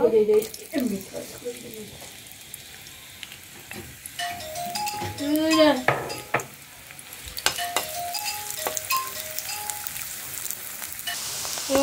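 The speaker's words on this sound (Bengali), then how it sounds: "বন্ধুরা, আমি তেল দিয়ে দিছি, এখন পেঁয়াজ দিয়ে দিব।" Onions frying in hot oil in a home kitchen, a continuous sizzle and stirring clatter heard up close, with a voice talking over the cooking in places.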